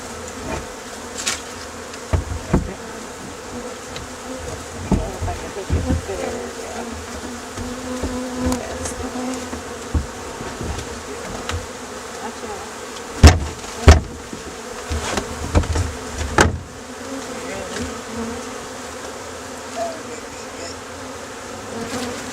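Honey bee swarm buzzing steadily and close throughout, a dense continuous drone with occasional knocks and handling thumps, no voices.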